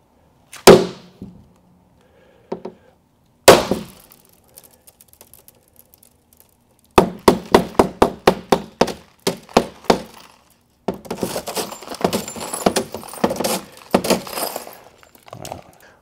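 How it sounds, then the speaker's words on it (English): A hammer strikes a pane of skylight glass during a laminated-versus-tempered smash test: two sharp separate blows, then a rapid run of hits, then a long crackling shatter as the pane breaks into tiny pieces. No one speaks. "So that broke the first pane of glass, and you can see it is literally falling into a million small pieces."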